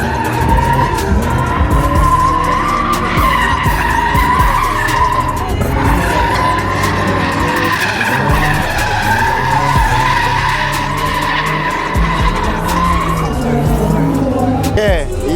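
A car drifts with long, loud tire skids squealing continuously, engine revving underneath, close and sustained throughout.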